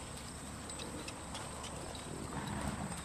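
Horse hooves stepping on the ground during a training session, a soft, irregular clip-clop under steady background noise with no talking.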